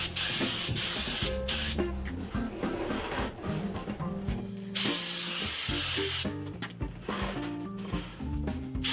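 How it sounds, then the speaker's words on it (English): A spray gun hisses steadily in long bursts with brief pauses, spraying finish onto the top of a cedar wood box, over continuous background music. "And now spraying the top of the box up."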